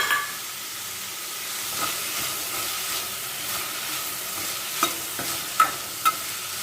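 Curry leaves dropped into hot oil in a pan, a steady close sizzle and hiss running throughout, with a few sharp crackles and pops near the end.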